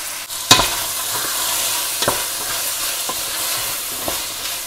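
Carrots, onions, parsley, ginger and garlic tumbling into a pot for a lentil stew with smoked turkey sausage and shrimp, giving a few sharp clatters and soft stirring knocks over a steady sizzling hiss.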